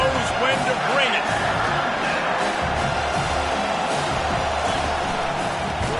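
Steady stadium crowd roar from an NCAA 25 college football video game, a continuous loud wash of cheering that swells slightly in places, with a commentator talking over it throughout.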